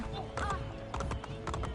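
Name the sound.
horse galloping, from the video game Assassin's Creed Brotherhood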